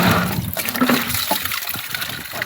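Water gushes and splashes steadily into a metal drinking-water pot being filled at home, a broad rushing flow that stays fairly loud throughout with no talk.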